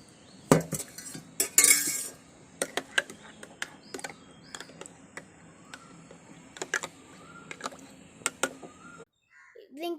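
A spoon clinks sharply and repeatedly against a glass or cup while mixing a milk health drink flavoured with rose essence, with irregular taps over a quiet background and a short brighter scrape near the start.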